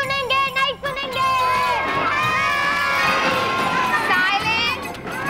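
Children shout and yell together in a classroom, a loud, sustained crowd of high voices that dips briefly near the start before swelling again, with some calls standing out above the din.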